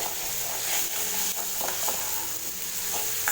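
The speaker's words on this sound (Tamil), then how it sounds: "இப்போ நம்ம ஃப்ளேம் ஹை ஃப்ளேமில் வச்சு நல்லா ட்ரை பண்ணிக்கலாம்" Egg chukka frying in masala on a high flame while being stirred, a loud continuous sizzle and hiss with scraping stir strokes throughout, no talking.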